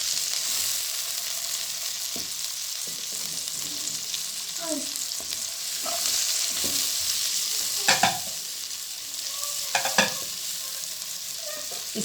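Garlic, ginger and green chillies stir-fried in a pan for an aloo gobi paratha filling, giving a steady close sizzle with scraping stirs and a couple of louder clatters near the end.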